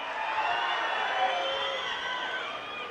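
Crowd at an outdoor political rally in Aspari, Rayalaseema, roaring and cheering steadily in a dense, sustained wash of voices, with scattered whoops rising above the mass throughout.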